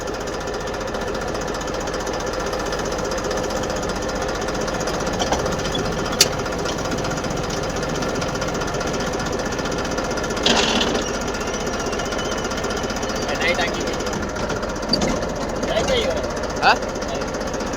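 A push-started tractor engine runs steadily with a dense, rough, continuous mechanical clatter, with a few sharp knocks and bursts over it and people talking nearby.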